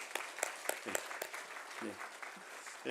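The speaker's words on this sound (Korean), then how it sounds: "남편이랑 우리 박수로 환영하겠습니다" Church congregation at a Sunday service clapping to welcome a returning visitor and her husband, a loose burst of individual claps that thins out after the first second, with a voice briefly heard beneath.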